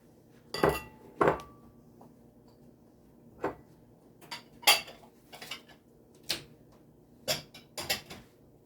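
Pecans and chocolate get stirred into plantain bread batter with a utensil knocking against a bowl, sharp scattered clinks and taps spaced irregularly over a quiet background.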